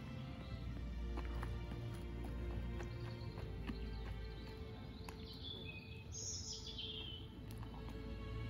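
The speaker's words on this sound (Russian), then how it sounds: "Послушайте птичек, как поют." Birds chirp and twitter in an old park with ponds, small calls scattered over a steady background hum and distant outdoor noise, with a brighter trill near the end.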